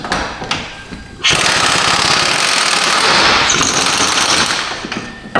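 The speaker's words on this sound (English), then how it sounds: "Let's see about getting these bolts loose." Power impact tool loosening bolts on a rotted Subaru subframe, a few short taps and then a loud, continuous rattling hammer burst for about four seconds, close to the ear.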